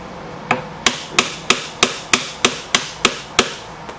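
A mallet strikes a chisel about ten times at an even, steady pace, each sharp close knock cutting a V-notch into a piece of wood.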